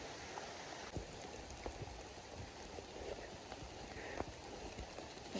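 Steady rain falls with wind outdoors, a dense, faint hiss with scattered drip and tap sounds throughout.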